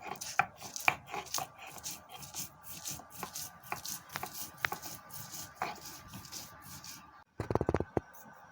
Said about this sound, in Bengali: বড়া ভাজবো, তাই ডালগুলি বেটে নিচ্ছি।